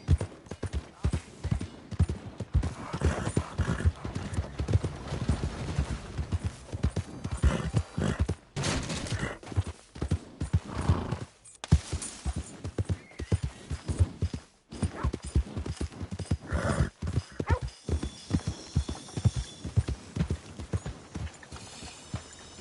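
Steady horse hooves clip-clop through a video game scene, with occasional neighs and bursts of gunfire in the mix, continuous and fairly close throughout.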